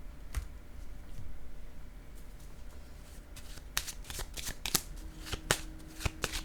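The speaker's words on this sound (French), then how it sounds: "Je vais déposer une carte sur vérité maintenant," Playing cards are handled and one is laid face down on a table, heard as close, crisp card slaps and flicks that become denser toward the end over a steady background hiss.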